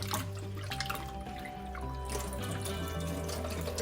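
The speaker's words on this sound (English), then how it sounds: "I'm just gonna rinse it off in that water" Water drips and trickles softly nearby as a cloth is rinsed in cool water, with faint sloshing over a low steady background hum.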